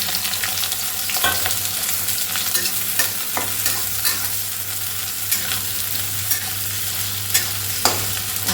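Sizzling of a little oil in a pan, stirred by hand with irregular scraping strokes throughout, near and steady, with a low hum in the background and no talk, while cooking a simple home meal that includes boiled peas.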